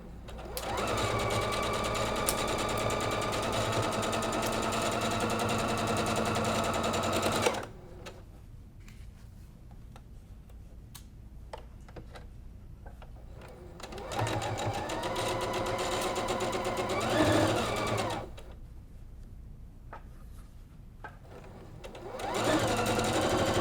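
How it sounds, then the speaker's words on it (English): Sewing machine stitching down the edge of a quilt block for a Friendship Star variation, running in long steady whirring stretches separated by quiet pauses with small clicks and handling sounds. "Now we're going to just stitch down this edge just like we did on the other side."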